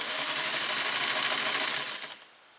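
A Singer Model 603 sewing machine runs a stitching test, giving a steady, close whirring hum for about two seconds before winding down and stopping.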